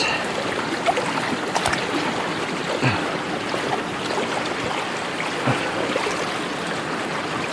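Water washes over a rock specimen of jasper-like quartz and petrified wood out rockhounding in Washington State, making a steady close splashing trickle with small irregular spatters throughout, and no voices.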